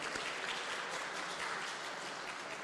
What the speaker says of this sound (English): I would like to please give a big round of applause for her.